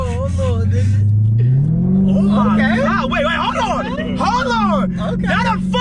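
A Dodge Hellcat drives close by, its engine note climbing in pitch as it accelerates and then holding steady, with people talking and shouting over it throughout.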